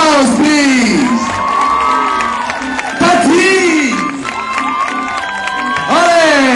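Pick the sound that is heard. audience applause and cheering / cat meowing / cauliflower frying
audience applause and cheering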